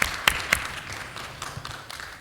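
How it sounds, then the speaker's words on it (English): Audience applause at a leadership forum award presentation, a few sharp distinct claps at first, then thinner, softer clapping that tapers off. "Give her a round of applause, Thana."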